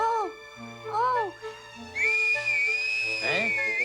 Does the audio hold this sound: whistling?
yes